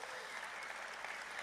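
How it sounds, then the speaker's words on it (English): Steady applause from a crowd, dense clapping that holds at an even level throughout. "Let's give them a big round of applause."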